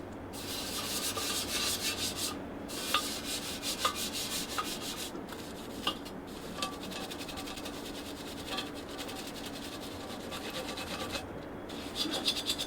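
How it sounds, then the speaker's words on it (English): Brush scrubbing brake dust off car wheels after a wheel cleaner has soaked, a steady rough rubbing with short pauses and a few light knocks, close and alone. "We're going to just scrub them a little, see if that does anything."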